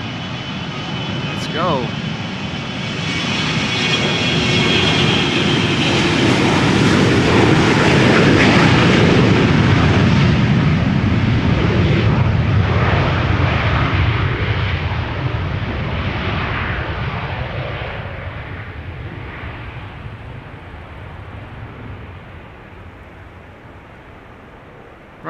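An easyJet airliner takes off at Amsterdam Schiphol Airport, jet engines swelling into a loud, close roar that peaks midway and slowly fades, with a person speaking briefly near the start.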